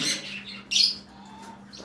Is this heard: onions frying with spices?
no